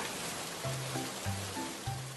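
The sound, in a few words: rain falling, in an animation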